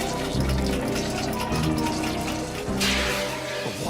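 Water gushes into a bathtub in a continuous rushing flow with shifting splashy texture, fairly close and steady, with a brief swell of spray near the end.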